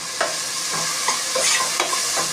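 Tomato is stirred and fried in a pan for a flat bean and tomato curry, with a steady sizzle broken by repeated spoon scrapes and clinks, no talking.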